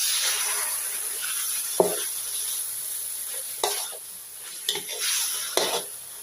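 Pork stir-fried with curry paste in a pan, giving a steady hiss of frying with a few sharp scraping stirs of the spatula heard up close.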